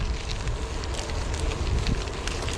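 Wind roaring and buffeting across the microphone while riding a gravel e-bike in eco mode into a headwind, a dense, steady rushing noise with low gusty thumps, close and continuous.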